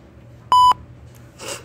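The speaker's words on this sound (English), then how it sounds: "please make the phone beep again." A phone gives a single short electronic beep, clean and loud, followed by a brief breathy rustle against a quiet room hum during a ghost investigation.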